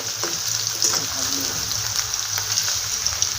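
Green chillies fry in hot oil for a vegetable pulao, giving a continuous bright sizzle with small crackles and pops throughout.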